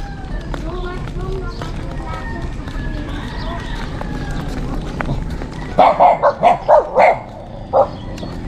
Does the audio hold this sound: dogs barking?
yes